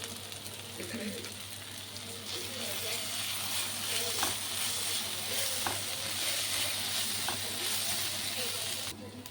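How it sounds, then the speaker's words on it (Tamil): Ginger garlic paste fries in a pan with tomato for a Tamil potato gravy, giving a steady, soft sizzle with faint stirring clicks and no talking. "இப்போ இஞ்சி பூண்டு பேஸ்ட் ஆட் பண்ணிக்கிறேன்."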